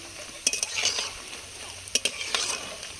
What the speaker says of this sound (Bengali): দু তিন মিনিট ধরে পেঁয়াজগুলো ভেজেছি